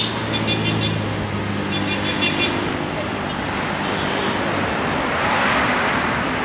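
Steady roar of highway traffic heard from inside a moving car on a long road trip toward Vijayawada, with vehicles passing continuously and talk mixed in.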